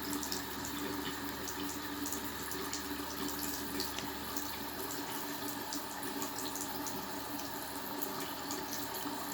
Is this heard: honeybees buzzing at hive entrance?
no